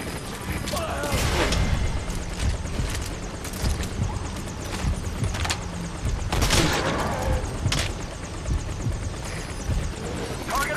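Covering gunfire in Metal Gear Solid V: The Phantom Pain, loud bursts of automatic fire and sharp shots rattling over a droning helicopter-like engine hum, with a voice speaking intermittently through the barrage.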